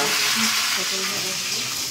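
Sliced eggplant sizzles steadily in hot oil in a frying pan, a continuous close crackling hiss that holds for the whole stretch with no talk over it.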